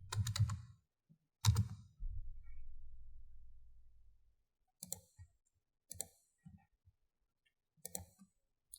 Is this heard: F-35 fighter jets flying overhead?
no